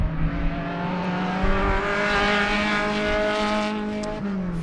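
A race car's engine holds a loud, steady high-revving drone as it speeds through turns 2 and 3 at Sebring in an SCCA race, the pitch dipping briefly as it slows for the corner.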